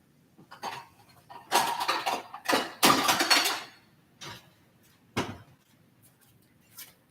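Ceramic dishes clink and clatter as one is taken from a kitchen cupboard, a cluster of sharp knocks and rattles in the middle followed by a couple of isolated clicks in a quiet room.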